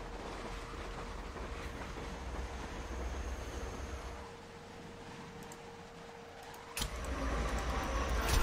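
A train passing in the sniper shooter Sniper Ghost Warrior 2: a loud low rumble and rattle of rolling cars that dips briefly, then swells back in with a sharp clank, with no voices over it.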